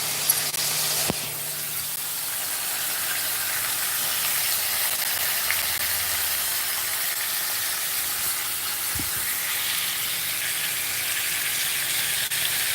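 Tomatoes are dropped into a hot pan and sizzle with a steady broad hiss that holds throughout, with a couple of faint knocks.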